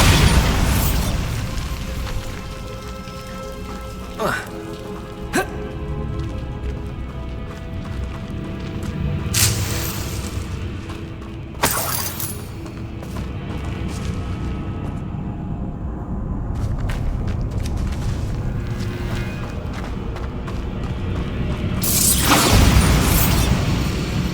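Booming spell blast in Hogwarts Legacy, the Bombarda explosion spell set off during a game fight, with several broad bursts and pops over a constant low rumble of game noise and background score.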